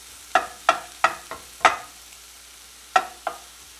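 Sausage pieces cooking in butter in a single pan for a breakfast burrito, heard as about seven sharp scraping stirs against the pan in irregular rhythm, close and fairly loud, over a faint background with no talking.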